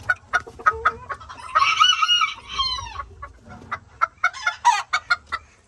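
Old English Game bantam chickens, including blue quail birds, cluck repeatedly and close by in a backyard setup, with one bird breaking into a short crow-like call amid the chatter.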